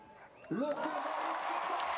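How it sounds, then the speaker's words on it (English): A show jumping crowd at a grand prix jump-off erupts into loud cheering and whooping partway through, swelling suddenly and holding as a sustained roar after a quieter opening. "listen to the cheers from the crowd"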